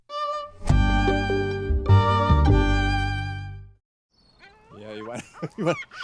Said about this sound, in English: That's either a braying cat or a seagull.